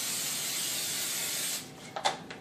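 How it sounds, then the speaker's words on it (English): Cooking spray hisses steadily onto the top and bottom plates of a waffle maker for about a second and a half, close and fairly loud, then stops, leaving a few faint clicks and handling noises. "we're gonna take out our waffle maker and spray down the tops and bottoms in order to prevent sticking"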